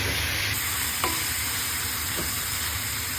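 Spoon stirring a pot of homemade sopas soup with carrots and egg, a steady low bubbling and scraping bed with one faint clink partway through, no voices.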